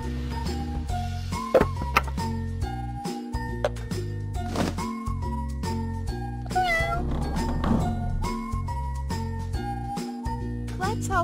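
A cartoon kitten stuck in a tree meows repeatedly in a kids' pet-care superhero game, with light jingling sound effects and cheerful background music throughout.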